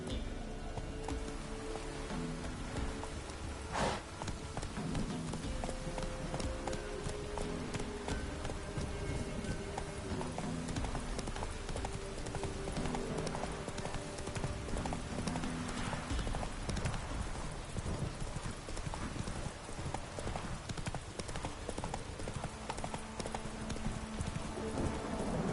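Roach, the horse in The Witcher 3, galloping with steady rhythmic hoofbeats under a rainy, rumbling outdoor ambience, at moderate loudness throughout.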